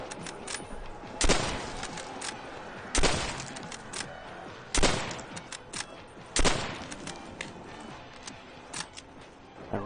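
Repeated bursts of automatic gunfire in the Call of Duty: World at War zombies mode, with sharp loud volleys roughly every two seconds over constant game noise.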